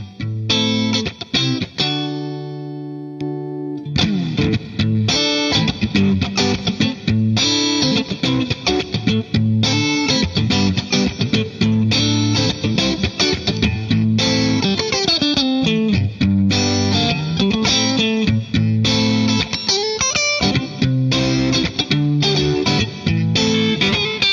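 Electric guitar plays through a JHS Solo Boost pedal, driven, boosted chords and riffs, loud and up front, starting with a sustained ringing chord before busier rhythmic strumming.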